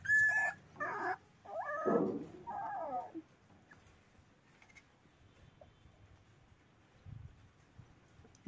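A small stray puppy, its ears and body crawling with ticks, lets out a few short, faint whimpers in the first seconds as the parasites are pulled out, then falls mostly quiet.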